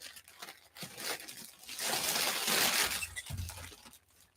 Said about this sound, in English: So it's all wrapped in a big old plastic bag.